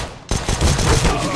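Gunfire in Valorant bursts in suddenly after a brief quiet moment, then continues as loud, dense rapid shots with some voice mixed in.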